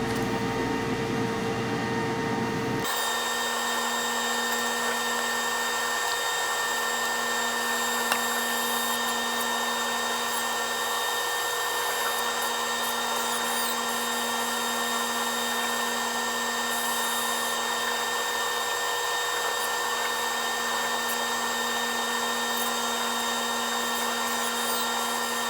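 Constant whirring hum of a laser machine burning off iPhone back glass, with a fume extractor running, starting abruptly after a short softer stretch and then holding a steady tonal drone, close and unbroken.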